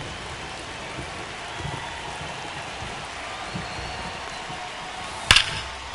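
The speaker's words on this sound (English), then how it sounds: "the field's not going to be able to hold up if the rain gets any worse than this" Steady rain falls over a ballpark in MLB The Show 25, a dense even hiss throughout, broken near the end by one sharp crack from the game.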